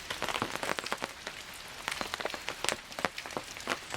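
Rain falls at a campsite around a vintage camper, steady drops pattering and tapping on surfaces close by, with irregular louder plinks over a constant wash.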